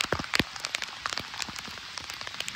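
Heavy monsoon rain pelting down on the Devkund waterfall trek, a dense, steady patter of drops striking surfaces close by, with sharper louder splats breaking through the continuous downpour.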